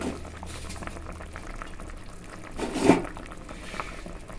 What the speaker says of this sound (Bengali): ঝোলটা কিন্তু হয়ে গেছে, মানে ফুটে উঠেছে।